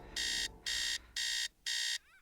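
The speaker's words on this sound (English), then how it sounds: "the alarm." An alarm clock rings in an audio drama: four loud, evenly spaced electronic beeping bursts in a steady on-off rhythm, close and alone.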